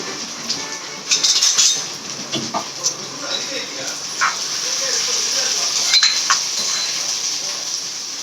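Onion and garlic frying in a pan give a continuous bright sizzling hiss, with occasional utensil clinks and faint voices in the background.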